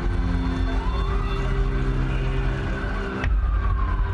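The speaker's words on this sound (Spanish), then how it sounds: "el estridente sonido de las ambulancias" Ambulance sirens wailing on a city street in Bogotá after bombings, loud and close with a steady rising-and-falling tone over traffic noise, one siren sweeping sharply near the end.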